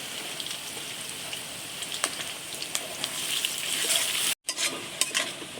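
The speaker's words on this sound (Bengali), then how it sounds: "পেঁয়াজ দিয়ে দিচ্ছি তেলে, আর কাঁচা লঙ্কা" Onions and green chillies sizzle in hot oil in a small kadai on a gas stove, a dense, steady crackle with occasional stirring scrapes and a brief break near the end.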